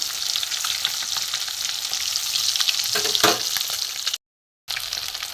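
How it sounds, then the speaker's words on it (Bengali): Halved eggs fry in hot oil and get turned over, a loud continuous close sizzle with a brief flare of crackling midway, then a short gap before the hiss resumes; no talking. "এপিট ওপিট করে ভেজে নেব।"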